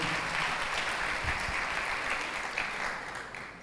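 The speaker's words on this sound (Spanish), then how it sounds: "un aplauso para ellos, por favor" An audience applauds at a church gathering, a dense, steady wash of clapping heard at moderate distance that holds evenly and tapers slightly toward the end.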